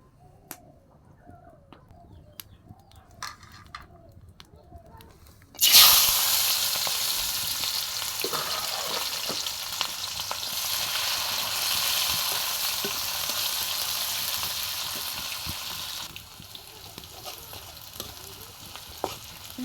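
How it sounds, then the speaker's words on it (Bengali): Onion and garlic frying in hot oil for a salted hilsa dish with potatoes, a loud steady sizzle bursting in partway through, stirred now and then, with birds cooing faintly in the background before and during. "পেঁয়াজ আর রসুন একসাথে বাজা বাজা হয়ে গেলে"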